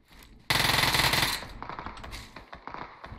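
An Uzi submachine gun in PUBG Mobile fires a loud, fast burst of close automatic shots lasting about a second, followed by scattered quieter shots and clatter.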